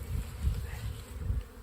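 Honeybees buzz around an open hive as a nucleus colony is moved into it on a quiet morning, a low steady drone with faint fluctuating hum close by and no talking.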